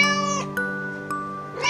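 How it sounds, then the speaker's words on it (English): A cartoonish cat in a 3D animal video game gives a sustained, whiny meow over a steady tonal backdrop, with a couple of short clicks and a rising flourish at the end. "cat"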